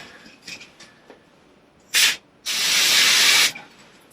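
Two bursts of brake cleaner spray onto a bicycle derailleur, a short puff followed by a longer steady hiss, close up against faint handling noises.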